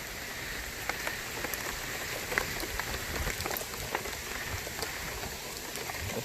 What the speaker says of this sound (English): If you can't tell, it's pouring rain out here.